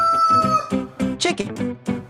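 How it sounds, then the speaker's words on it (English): Farm chicken calling in short, close, loud bursts with harmonic crowing-like tones and clucks, several calls in quick succession over about two seconds. "Chicken."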